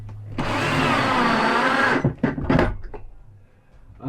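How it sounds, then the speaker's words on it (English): A power driver drives screws into a campervan ceiling, whirring close and loud for about a second and a half before stopping. A few knocks and clunks follow, then fading handling noise. "I'm going to put a couple of screws in here through into the ceiling"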